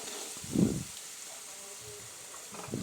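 A steady, soft sizzle of cumin and curry leaves frying in a spoonful of hot oil in a pan, with a brief low thump early on and no talking.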